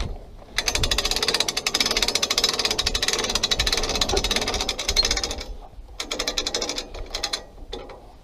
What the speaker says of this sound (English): let me just crank this up just a shot